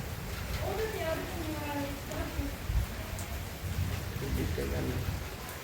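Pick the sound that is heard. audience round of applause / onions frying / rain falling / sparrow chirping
rain falling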